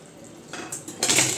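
Fried katla fish pieces go one by one into boiling gravy in a pan, two or three short clinks and splashing bursts over a quiet simmer, with no talking.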